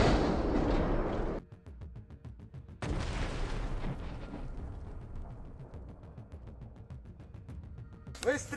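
A deep artillery shot at a frontline position, a heavy booming blast with rumbling low end and a long decaying roar, with a voice shouting briefly near the end.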